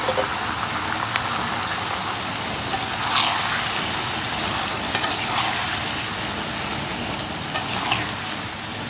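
Raw banana curry fries in a pan with a dense, continuous crackling sizzle, close and steady, broken now and then by soft stirring scrapes.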